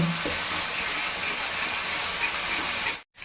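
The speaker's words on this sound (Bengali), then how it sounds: "এখানে 2 চামচ মতো আদা ও লঙ্কা বাটা দিয়ে দিলাম। দিয়ে একটু ভালো করে এটাকে কষিয়ে নিচ্ছি।" Ginger and chili paste sizzles steadily in a hot pan, a continuous close hiss of frying that cuts off abruptly near the end.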